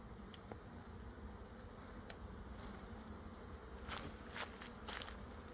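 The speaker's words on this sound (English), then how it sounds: "I'm getting them off because I'm afraid some may be brand new nurse bees." Honeybees buzz in a steady, faint drone during a hive inspection, with a few brief clicks and crackles from handling the frames.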